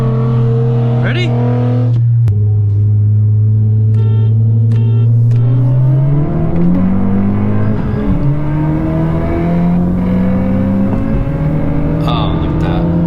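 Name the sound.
Honda Civic Si engine revving and shifting into fourth gear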